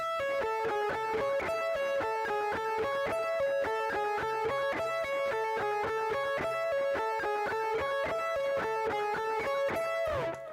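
A distorted electric guitar plays a fast, evenly alternate-picked run of repeated notes, a steady rapid stream of attacks with brief pauses, clear and alone.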